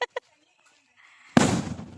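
A Diwali firecracker bursts with a single loud, sharp bang, followed by a crackling, fading tail after a quiet stretch, with a brief voice at the start.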